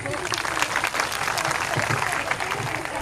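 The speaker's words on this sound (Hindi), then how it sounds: "बहुत बहुत तालियां" Dense, steady applause from an audience at a Shrimad Bhagwat Katha religious discourse, many hands clapping continuously and fairly close, with a faint voice audible beneath.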